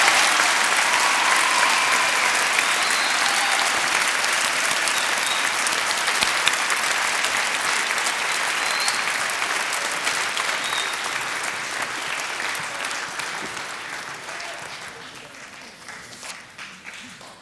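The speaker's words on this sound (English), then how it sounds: "please join me in a round of applause to thank the men and women who bravely served our" A large audience at a high school Veterans Day ceremony gives sustained applause to honor military veterans, dense and even throughout before gradually thinning and tapering off at the end.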